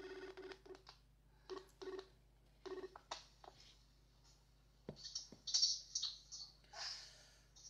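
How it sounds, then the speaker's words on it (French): A video call ringing on a phone: a series of short electronic tone bursts in an irregular pattern, followed by brighter chiming tones, moderately loud over a low steady hum, with no talking. "Je t'appelle en vidéo."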